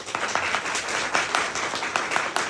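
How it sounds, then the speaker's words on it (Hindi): Audience applause at a True Grocery 2023 gathering in Solan, Himachal Pradesh: steady dense clapping from a crowd, fairly close and continuous throughout, with no speech over it. "एक बार उनके लिए तालियां होनी चाहिए।"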